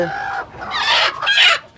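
Loud, close calls from native Bengali laying hens: several sharp, squawking clucks in quick succession with no other sound.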